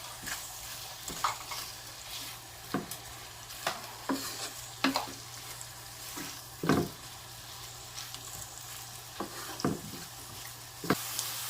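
Onions frying in butter in a pan, a constant low sizzle under repeated sharp scrapes and taps of a spoon stirring, close and free of speech.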